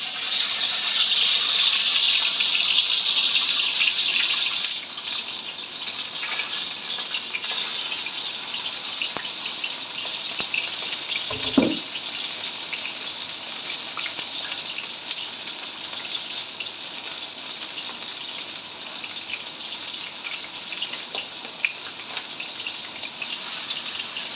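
Pork fillet steaks fry in a pan with a loud, continuous hissing sizzle that eases slightly after a few seconds and carries on steadily, broken by a single brief clunk partway through.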